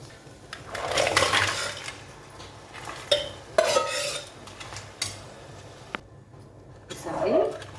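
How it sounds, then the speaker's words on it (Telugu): Crabs and eggplant pieces go into a pan and get stirred, producing intermittent scraping, clattering bursts and soft sizzling nearby, with brief voice sounds in between. "ఇలా వంకాయలు వేసుకుని మనం ముందుగా కడిగి పెట్టుకున్న పీతలను కూడా ఇందులో యాడ్ చేసేసుకుందాం"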